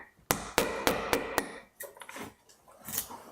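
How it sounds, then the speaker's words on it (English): Hammering close by: five sharp, evenly spaced blows ring out in quick succession, followed by a few lighter, irregular knocks and scrapes, loud against a quiet room with no talking. "No point talking with the hammer."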